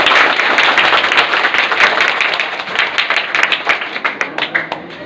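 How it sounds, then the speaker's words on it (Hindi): Loud applause breaks out for a student at a high school results distribution in Patna, a dense crowd of clapping that thins toward the end into separate claps. "तालियां जरा जोरदार इसके लिए"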